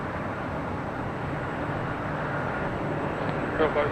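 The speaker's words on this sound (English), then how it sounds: "This arrival is United Airlines 282 coming in from Denver on the" A United Airlines Boeing 737-900ER arriving from Denver at Los Angeles airport: a steady, broad jet roar held throughout, with a voice talking over it.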